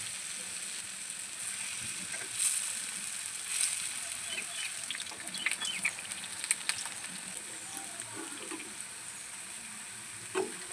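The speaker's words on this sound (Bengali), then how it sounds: "তেলটা ভালো করে গরম হয়ে গেছে এবারে ধোকাগুলো দিয়ে দেবেন ধোকাগুলো মিডিয়াম আজে ভাজতে লাগবে" Dhoka lentil cakes fry in hot oil at medium heat, giving a steady, fairly quiet sizzle with occasional small crackles and pops, with no voices heard.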